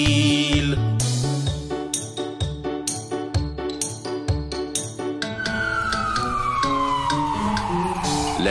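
A synthesized ambulance siren wails over a bouncy, jingly musical backing in a French children's song, the siren tone sliding downward and sustaining toward the end.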